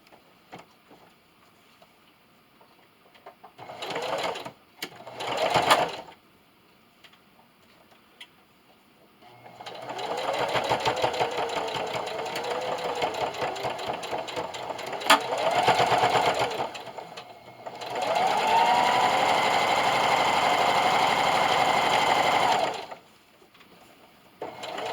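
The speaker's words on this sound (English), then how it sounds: "I'm going to sew over my loop, back stitch over it, and then continue to sew all the way around" A sewing machine straight-stitches around a Christmas stocking, with two short runs early on, then longer steady whirring stretches broken by a pause, close and clear.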